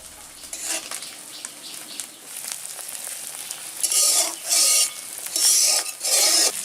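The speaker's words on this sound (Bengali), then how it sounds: "এবার আমরা মাছগুলো আস্তে আস্তে মশলার উপর ছেড়ে দেব।" Koi fish laid one by one into a pan of sizzling, cooked-down spice paste, with a steady fry hiss that swells into loud, rhythmic bursts of sizzle toward the end.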